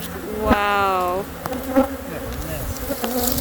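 Bees buzz around a hive built inside a hot black plastic compost bin. A loud, close drone with rising and falling pitch plays alongside light tapping and rustling.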